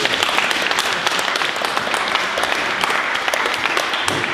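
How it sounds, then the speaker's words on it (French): A crowd at a photo club's 50th anniversary event in Armentières applauds its first president, with close, loud, steady clapping and individual hand claps standing out throughout. "alors on l'applaudit très fort."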